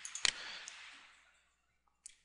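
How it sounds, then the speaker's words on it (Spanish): A sharp mouse click on a Windows 7 computer during a program uninstall, one crisp near click followed by a brief fading tail and a second faint click near the end, no talking. "Ok, entonces aquí es donde le vamos a dar un clic."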